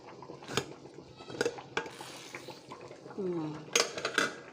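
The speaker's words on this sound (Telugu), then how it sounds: "కుక్కర్ అయింది కదండి దీన్ని తీసేస్తున్నాను" A pressure cooker of ghee rice is opened and its lid lifted off, sharp metallic clanks and clatters close by, with a brief hiss partway through.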